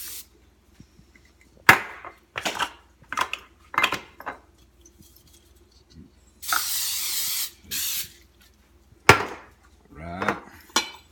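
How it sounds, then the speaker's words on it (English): A spray can sprays in a few short bursts, with one longer hiss near the middle, between clatters and knocks from handling objects close by. "So now we spray."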